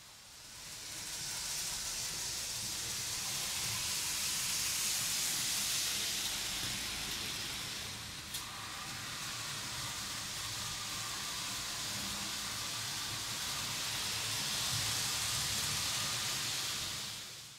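Steady, close hiss and whir of a Märklin model train, a Württemberg-liveried Deutsche Reichsbahn class 75 locomotive, running continuously along the track, with a brief click midway.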